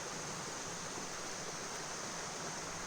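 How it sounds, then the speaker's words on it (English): A river flows behind a remote campsite in a faint, steady rushing hiss that stays even and unbroken throughout. "as you can see, there's a beautiful river behind me."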